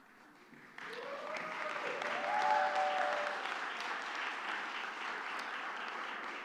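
Applause from the audience at a commencement ceremony for an Executive Master's in Leadership program, swelling in after a quiet moment into a broad, sustained crowd sound that stays steady to the end.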